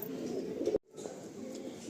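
Madrasi pigeons coo softly in a low, rounded murmur, with a brief near-silent gap midway before the cooing and faint ambient sound resume.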